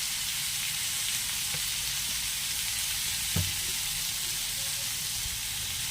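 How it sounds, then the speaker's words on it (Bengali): Steady, dense sizzle of oil frying in a pan beside potato, eggplant and onion pushed to the side, with a hiss that holds even throughout and one faint clink near the middle. "এবার আমি তেল একটু দিয়ে দিলাম তার মাঝখানে"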